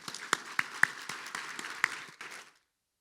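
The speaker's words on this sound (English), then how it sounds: "Another round of applause for our leaders" Applause from a luncheon audience at a small business summit for its leaders: a scattering of sharp, distinct claps over a soft patter of hands, fading out before the end.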